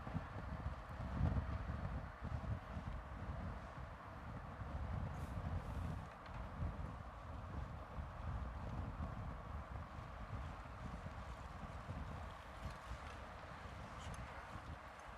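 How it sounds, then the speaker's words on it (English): Steady wind rumbles across the microphone during a bicycle ride through the city of Utrecht, Netherlands, a continuous low buffeting roar with no talking. "You can see it's still quite windy."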